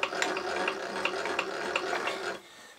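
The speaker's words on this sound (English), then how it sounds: "mill off the top piece" A milling machine cutting the top off a steel slide block for a model steam engine, giving a steady close grinding chatter with a rapid repeating ratchety tick that stops abruptly near the end, no talking.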